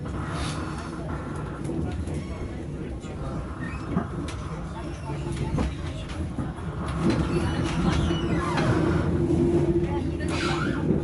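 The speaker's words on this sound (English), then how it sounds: "the final leg of our journey is a Swiss intercity train which goes all the way to Basel" A Swiss intercity mainline train runs toward Interlaken West, with a steady low rumble and rattle from inside the carriage that grows somewhat louder partway through, and faint voices underneath.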